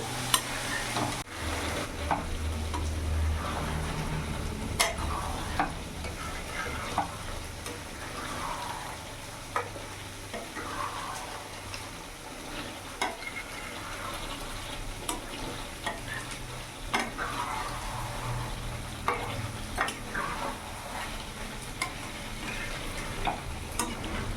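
Hyderabadi green chicken sautéing in a pan over a raised gas flame, a steady close sizzle broken by repeated scraping and clinking stirring strokes throughout, with no talking.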